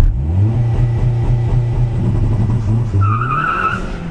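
A car launches hard using launch control, its engine revving loudly and steadily from up close, with a rising tire or drivetrain whine near the end.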